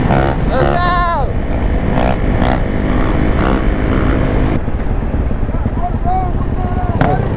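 Race Banshee quad engines revving hard at a dirt race, loud and continuous with rising and falling pitch sweeps, several machines overlapping up close.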